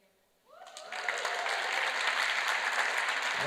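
Applause from a squash tournament finals crowd for a finalist, swelling quickly into sustained clapping from a sizeable audience with no talk over it.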